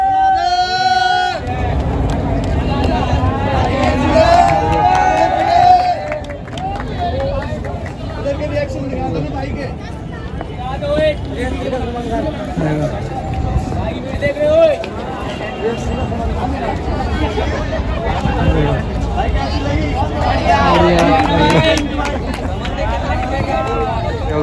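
A public crowd gathers around a shirtless bodybuilder, a steady babble of overlapping chatter and voices close by, with someone talking over the hubbub throughout.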